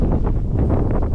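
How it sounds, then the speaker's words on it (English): Gusty wind buffets the microphone in an open canola field, a steady low roar with periodic rushing swells and no talking. "It's a bit windy today, so I hope the sound's all right."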